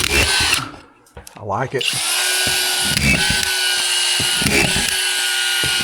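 A power drill drives screws into a drywall butt board, its motor whining loud and close in several sustained runs with short pauses between, while a voice talks briefly at the start.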